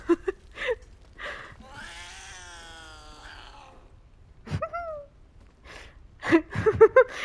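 A cat in a video game lets out a long, drawn-out meow of a couple of seconds, followed by a shorter mew, with brief grunting vocal sounds and soft game noises around it.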